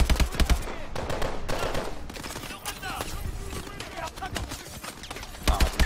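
Rapid automatic gunfire in a Call of Duty match, with dense rattling bursts and scattered single shots that come close and loud at the start and end. Voices talk underneath.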